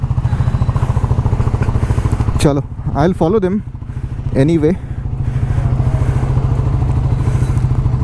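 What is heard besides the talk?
motorcycle engine running after a cold start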